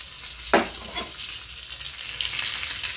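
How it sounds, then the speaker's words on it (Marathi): A hot tempering poured onto curd and peanut chutney makes a sharp hiss that bursts up at once and then settles into a lighter, steady sizzle, close and without voices. "आता ह्याच्यावर फोडणी घालते मी."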